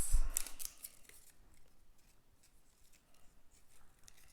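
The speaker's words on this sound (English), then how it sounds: "I'm going to trim my ribbon, grab my glue dots." Scissors snip through ribbon at a papercraft card-making table, a couple of sharp close cuts at the start followed by quiet handling noise.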